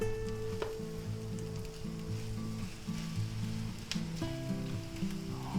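Eggs, ham, onions and green peppers sizzling in a frying pan for a breakfast burrito, a steady, crackling fry heard close up under a low, continuous background hum, with no one speaking.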